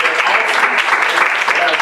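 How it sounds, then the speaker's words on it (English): An audience at the Awakening and Restoration Conference in Augusta, Georgia, claps together in a brief, dense burst of close applause with no talking over it. "Let's give us a hand clap"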